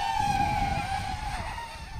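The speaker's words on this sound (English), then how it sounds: "that was full throttle and the inertia just took it down to the ground" A small 130mm Lantian quadcopter with 1306 motors on 3S, at full throttle before crashing to the ground, produces a loud, high motor whine that wavers and sags over two seconds. Nobody talks.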